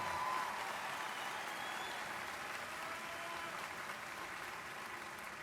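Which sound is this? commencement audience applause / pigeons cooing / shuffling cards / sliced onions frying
commencement audience applause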